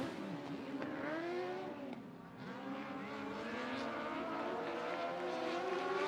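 Dwarf race cars at a speedway accelerate in a pack at the green flag, several engines whining and rising in pitch together at moderate distance.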